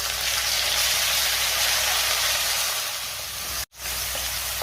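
Onion paste sizzling in a hot pan with green chillies and kasuri methi for a Maharashtrian brinjal-potato gravy, a steady, loud broadband hiss that dips briefly near the end.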